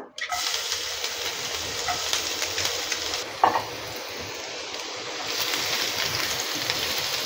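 Chopped garlic fries in a pan for a Chilli Chicken dish, giving a steady, loud sizzle with light stirring scrapes throughout and a brief clatter midway.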